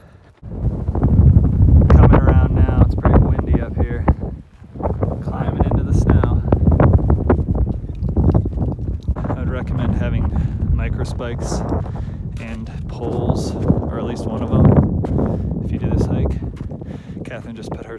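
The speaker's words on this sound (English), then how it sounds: "It's pretty windy up here." Strong wind buffets the microphone in heavy, roaring gusts, rising and falling continuously for the whole stretch.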